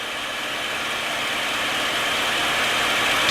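A TF-51 Mustang's piston engine runs in flight at about 2,300 RPM, a loud, steady, unbroken roar with no talk over it.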